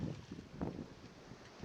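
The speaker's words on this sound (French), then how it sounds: "Il y a un bon vent et le vent devrait forcer encore." Steady wind rushing over an Arctic sailboat on a fairly calm sea, a low broadband buffeting with mild gusts and microphone wind noise, no voices.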